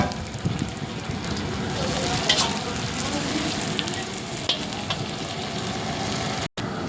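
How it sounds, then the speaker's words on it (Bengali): Chopped onions and tomatoes fry in a pan of hot oil, a continuous crackling sizzle with occasional stirring scrapes, fairly close and moderately loud. "এই যে বন্ধুরা, পেঁয়াজটা ভাজা হচ্ছে"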